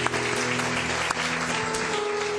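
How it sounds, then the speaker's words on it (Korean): A church congregation breaks into steady clapping during a worship service, with sustained musical tones ringing beneath the close, even applause. "우리 감사와 찬양의 박수 올려드리기 원합니다"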